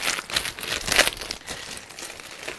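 Crinkly plastic packaging for a home cinema product crackles and tears as it is struggled open, a close, busy run of rustling bursts with a louder crunch near the middle.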